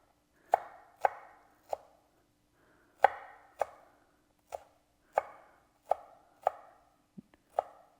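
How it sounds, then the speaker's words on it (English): A knife finely dices an onion on a cutting board, giving about a dozen crisp, close chopping knocks in an irregular rhythm with short pauses, alone without talk. "for this onion, I want really small little dice"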